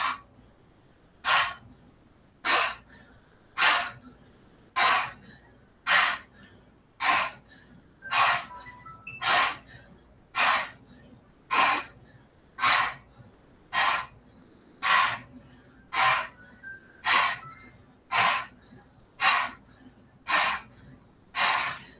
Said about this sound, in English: You're also going to let out a little puff of air at the twist.